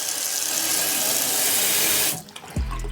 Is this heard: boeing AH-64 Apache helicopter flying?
no